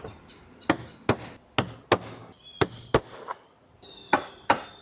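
Sharp metallic knocks of a screwdriver and small punch knocking out rivets on an Airstream trailer strike about nine times in an irregular rhythm, close and loud, each a crisp impact against a quiet background.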